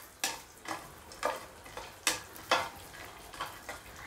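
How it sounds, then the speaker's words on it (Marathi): Cashews, almonds and raisins fry on a low flame for carrot halwa, heard as a steady run of about eight scraping stirring strokes over a soft sizzle, close and clear with no talking. "आणि आता काजू, बदाम, मनुके हे छान असं आपल्याला फ्राय करून घ्यायचं आहे।"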